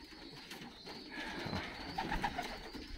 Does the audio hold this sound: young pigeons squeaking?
yes